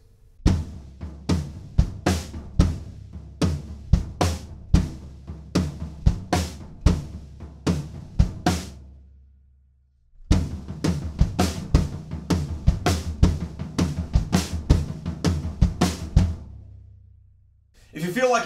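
A drum kit plays the tom section of a song, with busy rolling tom hits and cymbal accents for about nine seconds, a brief pause, then the pattern again, loud and close.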